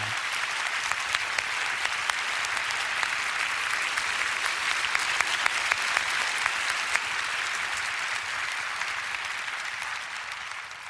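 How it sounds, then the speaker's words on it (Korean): An audience at a Christian prayer meeting gives warm applause of encouragement, a loud, sustained crowd of clapping hands with scattered sharper claps poking through, steady throughout and easing only slightly at the close. "위로와 격려의 박수를 부탁드립니다"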